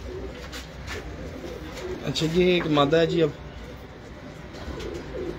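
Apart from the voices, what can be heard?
pigeons cooing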